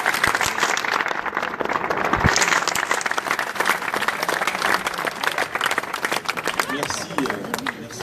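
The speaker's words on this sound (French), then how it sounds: "on pourra tous les encourager et les applaudir avant ce départ" A crowd applauds and cheers participants before their departure at a public presentation with firefighters, the clapping dense and sustained throughout.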